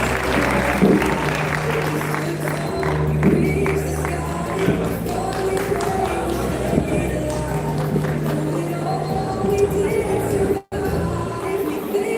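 Applause and crowd noise at a gathering, given as a round of applause for a doctor from a nutrition hospital before a cake cutting, steady and fairly even throughout with some murmuring voices mixed in.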